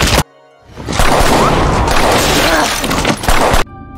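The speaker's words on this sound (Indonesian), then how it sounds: "Dan terjadilah tembak-menembak antara Tyler dan polisi." Gunfire in a dense, sustained burst from a pistol shootout between a mercenary and police in the 2020 action film Extraction, loud and chaotic with crashing impacts, framed by brief quieter moments at either end.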